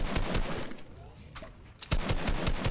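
Gunfire in the video game Fortnite, a rapid series of sharp shots in two bursts separated by a brief lull, loud and close, with faint talk underneath.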